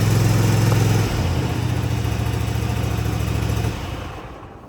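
A Cub Cadet ZT1 zero-turn mower's engine runs steadily and close by, its throttle not reaching full speed; the engine note dips slightly after the first second, then holds a low, even hum before easing off near the end.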